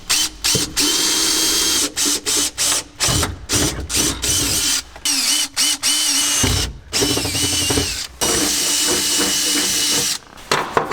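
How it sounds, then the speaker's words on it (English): Power drill boring a hole through a metal shifter base plate in a time attack Civic EK K20 build, loud whining bursts repeatedly started and stopped with short pauses between pulls of the trigger. "Just going to go for it with the drill and hope for the best"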